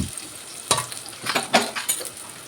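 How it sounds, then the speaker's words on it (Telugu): Onions, cut into large pieces for mushroom curry, drop into hot oil in a pan and fry with soft sizzling, punctuated by several louder stirring scrapes and clatters spaced through the moment. "ఆయిల్ హీట్ అయినాక ఆనియన్స్ వేసుకోండి."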